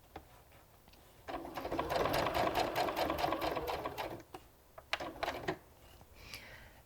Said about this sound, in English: And we'll stitch down again and then across.